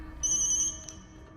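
A mobile phone ringtone chimes briefly with a bright, tonal electronic melody, clear and alone against quiet background.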